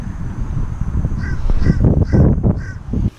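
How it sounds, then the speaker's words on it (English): Crows cawing outdoors on Long Island, a series of harsh, raspy calls repeating in quick bursts, loud and close, with a steady background hum underneath. "I don't know why these birds are after me"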